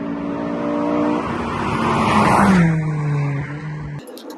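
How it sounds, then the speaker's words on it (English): A Honda Integra Type-R DC2 engine climbs hard through the revs on a wet road with standing water, a rising, buzzing howl held near and loud before a sharp drop as the driver shifts. "The engine is like a chainsaw up in the revs."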